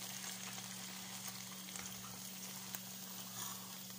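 Noodles frying in a pan for mie goreng, a steady soft sizzle over a constant low hum, fairly faint and continuous with no talking.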